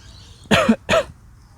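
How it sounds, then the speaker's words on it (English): Two sharp coughs in quick succession from a person recovering from hernia surgery, close and loud, with quiet room noise before and after. "coughing even hurts after the hernia operation"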